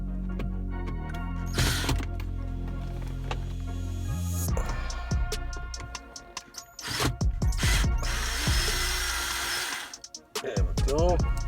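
Screws come out of a console panel in a 2017 Nissan Sentra, with a cordless driver whirring in short bursts, clicks and ratcheting sounds up close, and scattered handling noises between.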